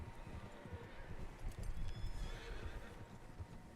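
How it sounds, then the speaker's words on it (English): Several horses in the Red Dead Redemption 2 video game, with repeated whinnies and neighs over a steady clip-clop of hooves, a busy, close herd sound with faint voices mixed in. "Horses, quite a few of them."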